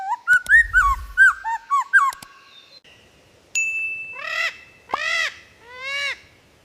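A songbird performs a rapid string of mimicked calls: quick chirping notes with a low thump early on, a pause, a sustained electronic-like tone, then three loud sweeping harmonic cries, close and clear with no talking.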